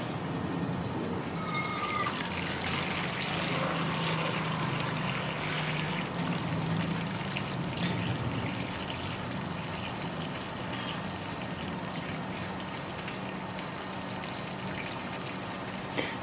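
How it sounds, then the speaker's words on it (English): Homemade chicken broth poured through a strainer, a steady splashing trickle of liquid that stays fairly loud and constant throughout, with no voices. "after a couple of hours, we're just going to come and strain the broth"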